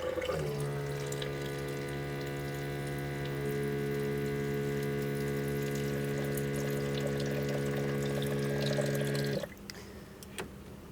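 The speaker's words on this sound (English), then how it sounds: "I'm just gonna top it off with some water." Water pours steadily into a protein shake of blueberries and a banana, a constant tonal rush that runs for about nine seconds and then cuts off, leaving quiet room noise.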